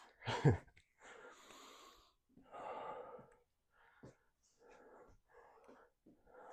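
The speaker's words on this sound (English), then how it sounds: "You guys can probably hear it in how I breathe" Heavy, labored breathing after a heavy leg day of squats, Romanian deadlifts and Bulgarian split squats, with a sharp gasp at the start followed by several ragged breaths in uneven bursts, close and fairly loud.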